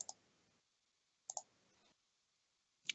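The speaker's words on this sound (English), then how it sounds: "I can hear you clicking." Computer mouse buttons click in a quiet room during an online tabletop game session: sharp, faint double clicks in three spaced groups, with near silence between them.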